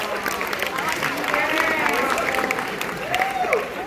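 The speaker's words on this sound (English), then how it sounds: "let's give Emerald a big round of applause" An audience at a hypnotist show applauds a volunteer, a dense wash of clapping with some cheering, while voices talk over it, one rising in a brief exclamation.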